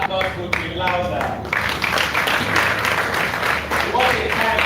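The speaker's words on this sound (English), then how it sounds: "That applause could be louder." A voice speaks briefly, then a crowd at a formal gathering breaks into sustained, fairly loud clapping that fills the rest of the moment.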